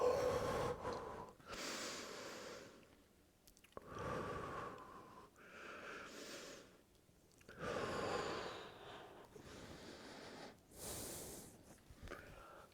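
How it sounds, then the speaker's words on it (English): Heavy, close breathing from a person holding a lower-body stretch with one foot on a slant board. Loud breath bursts of inhales and exhales come every couple of seconds, with short quiet gaps between them. "Sorry if that's loud in the microphone."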